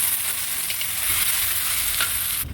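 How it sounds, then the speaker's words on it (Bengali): Coriander, chili and turmeric powders sauté in a pan with a loud, constant sizzle and hiss, broken by a few light stirring scrapes before it cuts off abruptly. "ধনে গুঁড়ো, লঙ্কা গুঁড়ো, হলুদ গুঁড়ো, আর এগুলো দিয়ে একটু কষিয়ে নেবো।"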